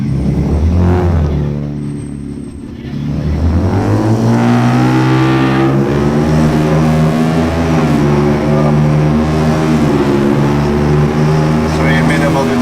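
2025 Ford Ranger Raptor V6 with a Magnaflow full exhaust revving in Baja mode, loud and close, a dip, then a throaty rise to a sustained high-rpm roar with steady harmonic growl.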